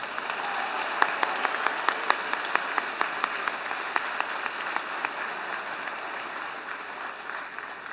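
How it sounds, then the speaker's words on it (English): An audience at the UTMUN 2024 opening ceremony applauds the secretariat, producing steady, dense clapping with a few sharper individual claps standing out, held at an even level throughout with no talking. "Can we please give them a huge round of applause?"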